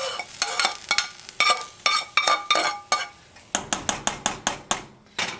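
Browned onions go into a pot of olive oil for mulukhiya soup, with repeated scraping stirs and clinks of a utensil against the pot over a bright sizzle, close and fairly loud.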